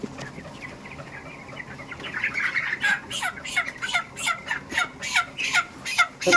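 Chickens in a poultry shed cluck and squawk in a steady, busy chorus, the calls growing louder and more frequent toward the end, with no one talking.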